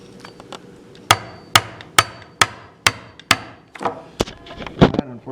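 A wooden spline is tapped into a cabinet joint with a run of about seven sharp, evenly spaced knocks, close and loud, followed by a few softer, irregular taps and handling sounds.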